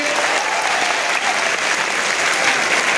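Loud, dense applause from a large audience at a student career guidance event in Nanded, steady and sustained throughout with no pauses.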